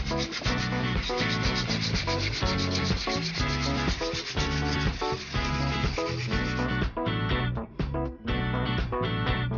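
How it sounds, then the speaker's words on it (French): Dry sanding scrapes across the painted surfaces of a styled Alfa Romeo Piccante scale model car, a close, steady rhythmic rubbing in repeated strokes that briefly breaks up near the end, with no talking. "Un ponçage à sec de toutes les surfaces est effectué avant la deuxième et la troisième sous-couche."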